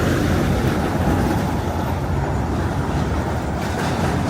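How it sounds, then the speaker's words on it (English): Truck driving by on a Manhattan street, a loud continuous rumble and clatter of moving parts filling the whole moment, with general traffic noise around it. "That's the truck making a lot of noise"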